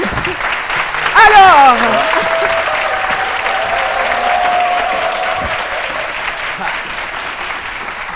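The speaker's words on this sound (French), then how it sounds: "on applaudit très fort notre invité" Applause from a studio audience for a guest on a midday talk show, fairly loud and steady, with a presenter's voice and a tonal sweep over it early on.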